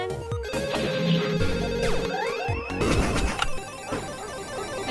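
An electronic telephone rings in the video game Pixel Ripped 1995, a warbling ringtone layered over busy game music and clatter, loud and close throughout.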